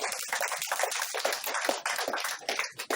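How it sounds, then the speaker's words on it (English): An audience at a valedictory event for an outgoing president breaks into a round of applause: dense, continuous clapping from many hands, fairly close and steady for a few seconds, with no talk over it. "Please, a round of applause."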